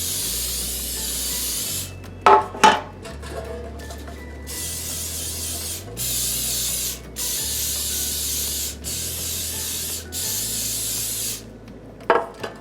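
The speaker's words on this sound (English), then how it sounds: "I'm gonna give them a really good spray because I do not want them to stick." A series of about six hissing cooking-spray bursts into loaf pans in a steady rhythm, close by, with a couple of sharp clicks in between.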